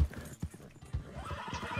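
A horse in a video game clip-clops along with steady, rhythmic hoofbeats and a whinny, heard up close at moderate volume without talk.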